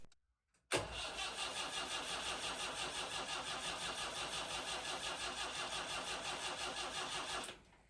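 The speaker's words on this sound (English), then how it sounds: "we are ready to fire her up" A boat's diesel engine, just back from injector repair, cranks and catches after a brief silence, then settles into a steady, loud, rhythmic chugging idle that runs on close and unbroken until it cuts off at the end.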